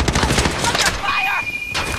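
Gunfire rattles in Modern Warfare multiplayer, with loud rapid bursts of automatic shots up close in the opening, then a short lull filled with electronic game tones before shooting picks up again; a voice shouts briefly over it.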